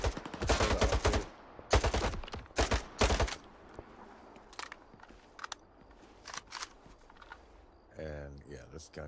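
Gunfire from the player's weapon in S.T.A.L.K.E.R. 2, several loud sharp shots in quick bursts early on, then sparser distant cracks, with someone talking near the end.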